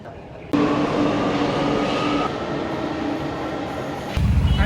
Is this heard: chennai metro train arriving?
yes